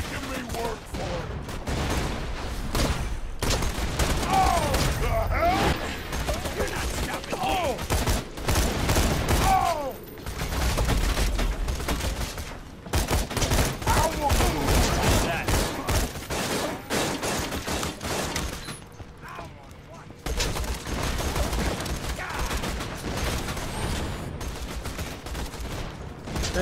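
Dense rapid gunfire from the video game Borderlands 2 rattles in long sustained bursts with explosive cracks and short lulls, and some talk runs alongside.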